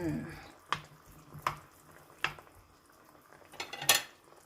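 A utensil stirs chunks of eggplant and other vegetables in a pan for a stir-fried basil dish with apple snails, giving a few sharp, separate clinks and scrapes against the metal amid quiet background noise.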